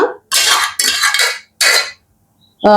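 A metal pot is handled while draining water off cooked greens, with a few bright clanking and scraping bursts separated by short silences, close and fairly loud.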